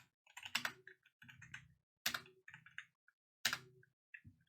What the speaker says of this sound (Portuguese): Vou digitar aqui 1.